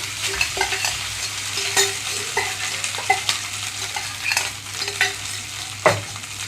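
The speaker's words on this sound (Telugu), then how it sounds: "ఇప్పుడు నేను ఉడికించి పెట్టుకున్న రైస్ మొత్తం వేసేస్తున్నాను" Cooked rice being stirred into garlic frying golden in a pan: a close, busy sizzle with repeated scraping and tossing strokes, ending in one louder scrape.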